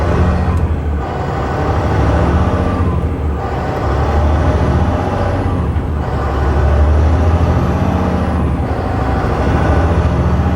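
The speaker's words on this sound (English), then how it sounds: "I'm going to do a hard acceleration." A 2007 Volvo 880 truck hauling an RV, fitted with an 18-speed Eaton Fuller Ultrashift transmission, accelerates hard. The engine roars loudly and steadily from close inside the cab, with a whine that rises and falls in slow cycles.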